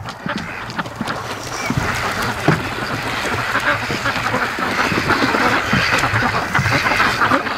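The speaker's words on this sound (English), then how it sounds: "all I could hear was quacking." Free-range ducks quack steadily and continuously outdoors while foraging for food after heavy rain, a dense overlapping chorus at moderate loudness with no talk.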